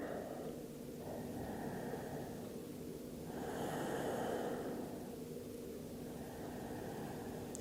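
Deep, slow breaths drawn during a beginner yoga session while stretching the upper back, two long airy inhales and exhales heard close up over a steady hiss, with no talking.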